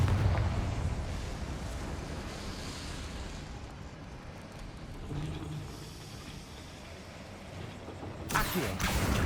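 A Confringo blasting spell bursts in Hogwarts Legacy, a rumbling explosive boom with lingering crackle that fades, then a sharper burst near the end.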